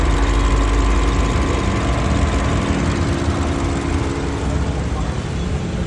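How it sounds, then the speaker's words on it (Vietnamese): An old car's engine runs at a steady, loud idle, a continuous low rumble and hum holding even throughout. "Nổ máy anh nghe thiệt."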